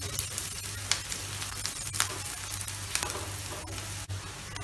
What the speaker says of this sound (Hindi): हम इसको गैस को हाई रख के इसको हम फ्राई करेंगे।